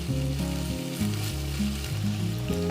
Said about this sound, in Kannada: ನಾನು ಇದಕ್ಕೆ ಎರಡರಿಂದ ಮೂರು ಟೇಬಲ್ ಚಮಚದಷ್ಟು ಹಸಿ ಶುಂಠಿ ಬೆಳ್ಳುಳ್ಳಿ ಪೇಸ್ಟನ್ನು ಹಾಕ್ತಾಯಿದ್ದೀನಿ ಮತ್ತೆ ಇದನ್ನು ಈಗ ಫ್ರೈ ಮಾಡ್ಕೋಬೇಕು